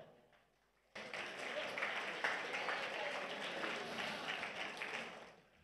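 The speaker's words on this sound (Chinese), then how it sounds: "我们给这批人来鼓掌好不好" An audience in a church hall applauds a group of people standing up: a near, steady wash of many hands clapping starts abruptly and holds at an even level before fading near the end.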